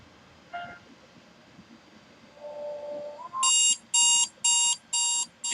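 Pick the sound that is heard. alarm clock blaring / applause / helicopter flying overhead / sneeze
alarm clock blaring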